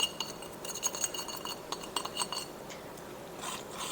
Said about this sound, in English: Go ahead and give this a good stir.